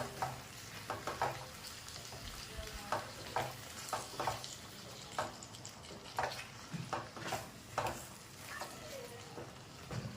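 A spoon stirs boiled chickpea usal in a pan, with repeated scraping strokes at a steady rhythm over a soft, continuous sizzle, close and moderately loud.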